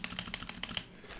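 Close typing on a KBD6X hotswap keyboard fitted with an MDA Big Bang space bar, about eight quick clacky keystrokes with a slightly rattly edge, then a short pause.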